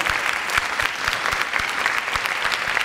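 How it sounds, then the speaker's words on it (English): An audience claps for Gabe's parents at a Delaware event, the sustained applause busy and even, with sharp individual claps standing out through the crowd noise. "First, I'd like to applaud your parents."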